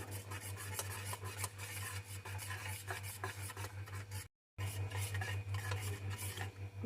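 A suji batter with warm milk and salt is mixed in a bowl, giving continuous close scraping and rubbing strokes with faint clinks over a low steady hum, briefly cut to silence once, with no talking.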